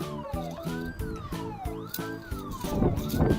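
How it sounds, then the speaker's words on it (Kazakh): A fire truck's siren wails in rising and falling sweeps over a pulsing two-tone horn, close and loud, with a rougher burst near the end. "Өрт сөндіру көлігі."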